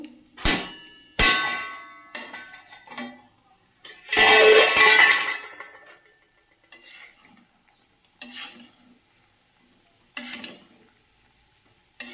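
A metal cooking pot lid is lifted off a simmering pot of fish curry with greens, giving sharp clangs and clinks, a longer scraping rattle midway, then lighter taps spaced through a quiet kitchen.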